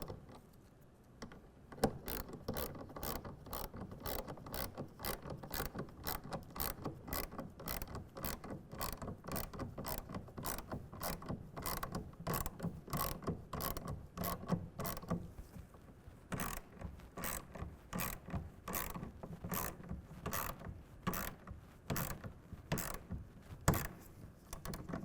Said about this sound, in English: we're going to tighten it down to 10 foot-pounds